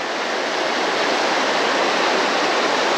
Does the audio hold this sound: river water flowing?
yes